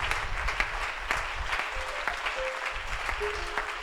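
A church congregation at a Friday year-end service applauds to acclaim the king of kings. The clapping is dense and sustained, with faint tonal whistles or cries rising above it.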